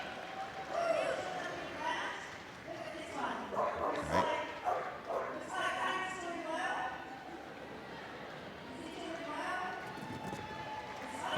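Dogs barking during rescue dog agility at Crufts 2025 in a busy arena, a few sharp barks amid crowd noise and commentators talking throughout.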